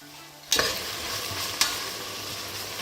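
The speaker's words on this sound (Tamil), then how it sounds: "இப்போ நம்ம கட் பண்ணி வச்சுக்க தக்காளி சேர்த்துக்கலாம் சாஃப்ட் ஆகிற வரைக்கும் கலந்து விடலாம்" Chopped tomatoes dropped into a hot pan for a one-pot lunch dish burst into a sudden loud sizzle, then a steady hiss of frying continues with another stirring scrape partway through, no talking.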